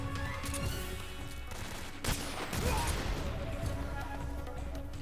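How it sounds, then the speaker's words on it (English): Gunfire rattles through a Metal Gear Solid 3 firefight, bursts of shots and a sharp crash mixed with game effects, fairly faint in the background. "Who's shooting me?"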